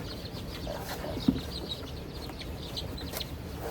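Baby chicks peeping softly in a small brooder, a steady mix of high chirps and faint clucking close by, with a single brief louder peep standing out.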